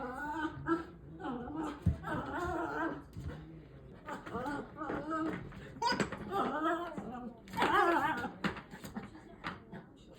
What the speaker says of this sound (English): if you listen closely, you can hear her growling at it